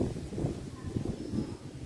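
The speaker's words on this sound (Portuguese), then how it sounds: "Tá ventando muito, né?" Strong wind buffets the microphone outdoors on a grassy rural farm plot in Nazaré das Farinhas, Bahia, giving a continuous low, rumbling roar that swells and dips throughout.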